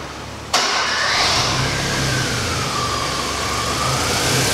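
A Ford Ka's engine cranks and catches abruptly, then settles into a loud, steady idle with a slight rise in revs, heard close with no talking.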